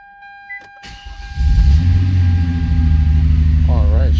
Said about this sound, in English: Now we'll go ahead and start her up.